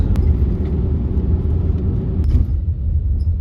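A vehicle climbs a very steep incline on I-70 in the Colorado mountains near Silverthorne, giving a steady, loud, low road rumble and engine drone with no talking.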